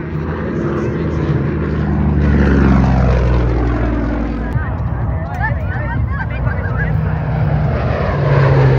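A propeller airplane flies at the Warnervale air show in 2024. Its engine drones loud and close and swells as it passes, with a crowd murmuring underneath.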